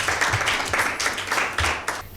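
Applause from a studio audience for a correct answer on a Mother's Day Bible quiz show, a steady burst of clapping that swells in waves and fades at the end.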